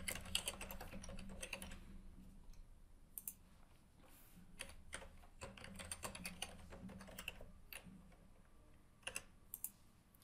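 Fast, irregular typing on a computer keyboard, key clicks pattering continuously in quick bursts, close and fairly quiet, with no voices.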